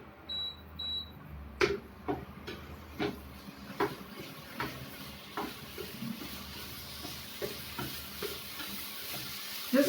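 Cubes of Amul paneer are tossed in a hot pan. Each toss gives a sharp clack of pan and food at an irregular rhythm, with a continuous sizzle underneath, close and fairly loud, and no talking.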